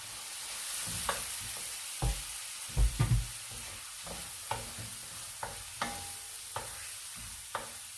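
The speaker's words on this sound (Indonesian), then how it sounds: "Kita akan goreng berlahan hingga udang benar-benar matang ya." Shrimp fried slowly in a pan with fragrant spice paste and kaffir lime leaves for a simple shrimp curry, stirred with repeated close scraping clatters over a soft, steady sizzle.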